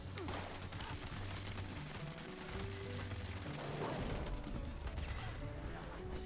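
Gunfire from an invisible weapon in the video game Fallout 76, rapid continuous bursts of shots filling the scene with dense crackling reports, loud and close, with a voice talking faintly underneath.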